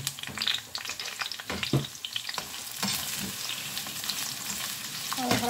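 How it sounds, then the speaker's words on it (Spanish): Eggplant frying in oil in a home kitchen for a stew, a steady sizzle with scraping and stirring knocks throughout, close and fairly loud, no talking. "Para que se fría, como que se fría un poquito."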